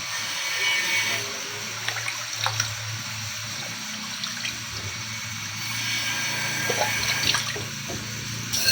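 Water runs steadily from a tap, a continuous splashing hiss with occasional drips and clinks, no talking.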